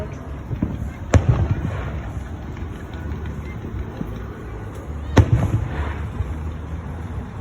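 Fireworks in the Bloxburg video game for the 4th of July: two sharp, loud bursts a few seconds apart, each trailing into crackling, with fainter scattered pops over a steady low rumble.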